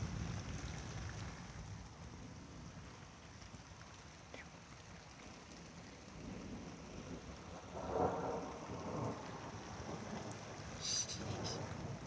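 Thunder rolls through a lightning-filled rainstorm during a power outage, steady rain and some wind noise underneath, with a louder rumbling burst past the middle and a voice briefly audible.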